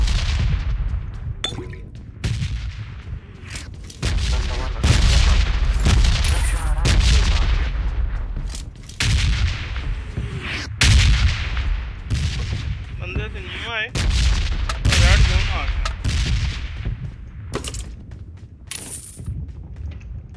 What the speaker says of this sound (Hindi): कुछ फायरिंग आवाज तो आई थी यार